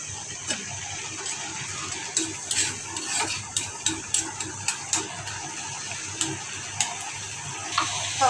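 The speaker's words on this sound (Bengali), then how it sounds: "এদিকে ডালটা বাগার দিয়ে দিই" Dal being tempered as spices sizzle in hot oil, a steady hiss with a run of small pops and crackles across the stretch, close by and without talking.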